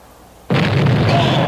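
A gun goes off with one sudden, loud blast, then a heavy roar that carries on without fading. No one speaks.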